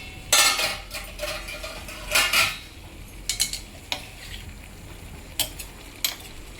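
A metal lid is handled on a pot of simmering South Indian sambar, giving several bright clinks and clatters at close range over a soft background sizzle.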